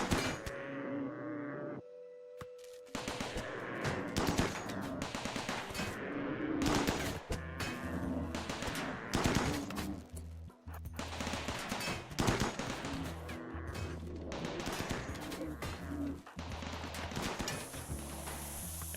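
Gunfire in a colony-building video game as a Thrumbo is shot, with rapid irregular bursts and single shots overlapping, plus an explosion-like burst, steady and fairly loud across the whole stretch.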